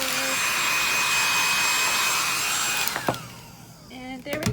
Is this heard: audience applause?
no